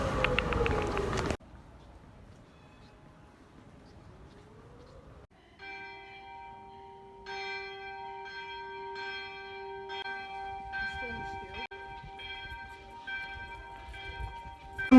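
Church bells ring in the distance in Delft, sustained tolling tones that swell in and layer together over faint outdoor background noise.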